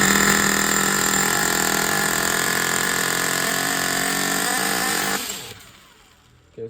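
A Traxxas T-Maxx nitro RC truck engine screams at high revs, loud and close, then abruptly cuts out and fades to near silence with a brief sound at the very end.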